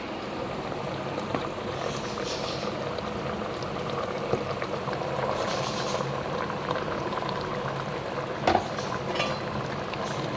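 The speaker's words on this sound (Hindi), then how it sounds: "अब ये हम इसमें यखनी डालेंगे।" Meat stock (yakhni) poured into a pot of simmering potato curry for aloo gosht, giving a steady bubbling, sizzling wash of liquid throughout with a brief clink near the end, no voices.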